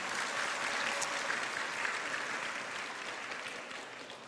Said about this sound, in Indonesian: Tepuk tangan buat yang masuk politik nih.